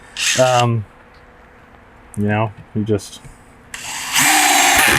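A DeWalt DCD803 installation driver runs in short bursts, a whirring motor whine that revs up and stops several times, with a longer, harsher run at the end; a person talks between the bursts.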